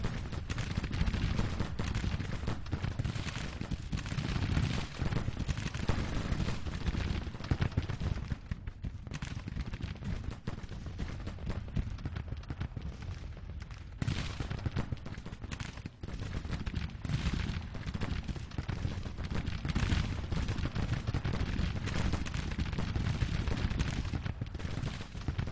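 Dense musket volleys and artillery fire from a Civil War battle in the strategy game Grand Tactician, a continuous loud barrage of overlapping shots and booms lasting throughout with no pause.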